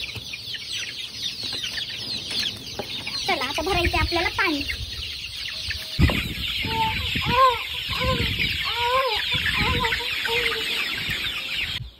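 Hens cluck in a poultry shed bedded with husk, a busy chorus of close, overlapping clucks and short calls, with a person talking over them partway through.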